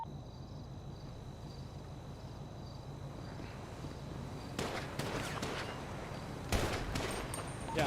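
A roleplay video game shootout with police: a quiet ambient stretch gives way to sharp bursts of gunfire, first a cluster of shots, then a louder volley near the end, heard from a moderate distance.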